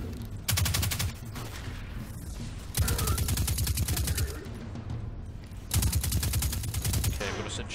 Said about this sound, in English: this submachine gun is pretty goddamn awesome